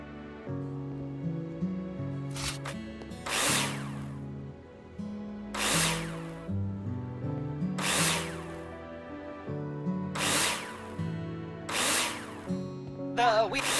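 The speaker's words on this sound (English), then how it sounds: "Take your drill out and screw them in." In the video game Builder Simulator, a power drill whirs in five evenly spaced bursts as screws are driven in while building a wall, over a steady backing tune, with no speech.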